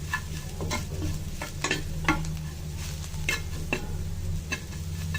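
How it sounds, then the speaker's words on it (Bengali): Spices are stirred in a pan for an aloo chop potato filling: irregular scraping and clicking spoon strokes over a soft, steady sizzle and low background hum. "সব কিছু মশলা দিয়ে মিশিয়ে নিয়েছি"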